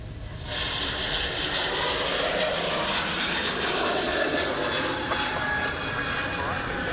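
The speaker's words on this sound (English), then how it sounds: "Kiwis are rolling. It's the 321 Neo to Christchurch." An Airbus A321neo takes off at Sydney Airport, its jet engines giving a loud, steady, broadband roar that holds level from start to finish, with possible faint voices beneath.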